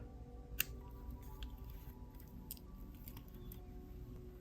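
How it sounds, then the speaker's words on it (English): Small scissors trim the knotted stretch-cord ends of a beaded bracelet, producing a couple of quiet crisp snips and light clicks over a low steady background hum, close up and without speech. "So now we can go ahead and trim these ends."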